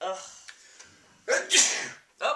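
A single loud, sharp sneeze bursts out near the middle, with brief vocal groans before it and another short vocal sound just after.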